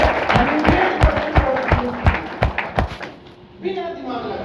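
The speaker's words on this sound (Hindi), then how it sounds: "एक बार इनके लिए भी जोरदार वाली तालियां बजा दीजिए" A seminar audience claps loudly, sharp individual claps over a crowd backdrop for about three seconds, then it fades out as a voice starts talking over it.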